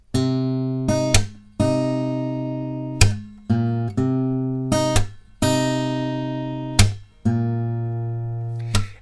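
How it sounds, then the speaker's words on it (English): Guitar picking pattern for the verse riff, played twice: ringing picked notes punctuated by repeated crisp slap accents in a steady rhythm, solo and close. "we're going to be playing the same picking pattern twice,"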